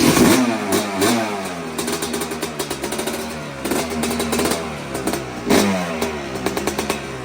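A modified Yamaha YZ250 motorcycle engine, tuned for eight more horsepower, fires up for its first start and revs repeatedly in loud, close bursts that rise and fall over an idling clatter.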